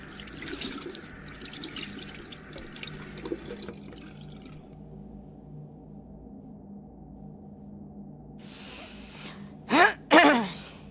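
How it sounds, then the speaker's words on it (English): A short in-game sound of hands being washed at a bathroom wash basin in an audio video game, with running water and a couple of brief splashy bursts near the end, following a stretch of quieter background. "Yep, it's washing my hands."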